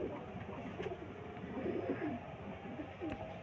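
Breeder pigeons in Lahore, Pakistan, give soft, low cooing, faint and close, with a few quiet rustles around them.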